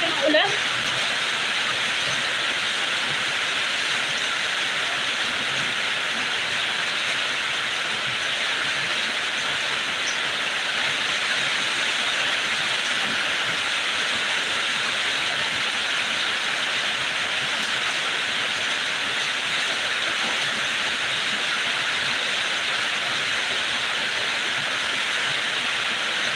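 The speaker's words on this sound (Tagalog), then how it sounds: "Taas kasi ng ulan." Heavy rain pours steadily throughout, a dense, even hiss of downpour that stays loud and constant from start to finish with no pauses.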